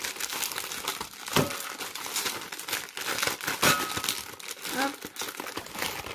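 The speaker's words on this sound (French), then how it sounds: "Je vais ouvrir mes boudoirs." A plastic packet of ladyfinger biscuits is torn open for tiramisu, with close crinkling and rustling of the wrapper throughout and a brief voice speaking over it.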